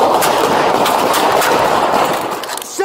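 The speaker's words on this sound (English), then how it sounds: "Shots fired!" Gunshots ring out during a police encounter in Manhattan, captured on an NYPD officer's body-worn camera: a rapid cluster of loud, close reports, followed by brief shouting.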